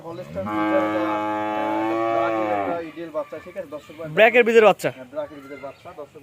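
A colourful young cow at a cattle sale lets out one long, loud moo lasting a couple of seconds, then a shorter cry follows. Someone speaks between the calls.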